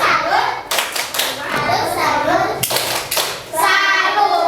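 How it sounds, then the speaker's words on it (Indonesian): A group of children in a classroom claps a quick rhythmic cheer, with bursts of claps and some young voices chattering throughout. "silakan tepuk salut untuk kelompok 2. Tepuk salut."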